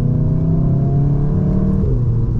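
A VW Golf R accelerating on the road gives a loud, steady engine drone with a rising whir, heard from inside the car, with no talking.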